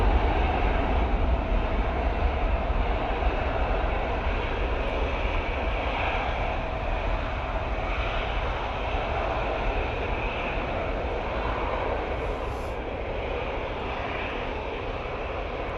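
EasyJet airliner on its takeoff roll at Manchester Airport on a windy day, a steady, broad engine roar heard from a distance that holds level and slowly fades slightly, with wind noise and no talking.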